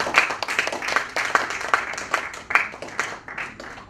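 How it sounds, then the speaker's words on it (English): Loud, sustained round of applause from a conference audience at a mental wellness event, dense overlapping claps filling the room continuously. "we have an OISA welcome, which is a very loud applause, a round of applause"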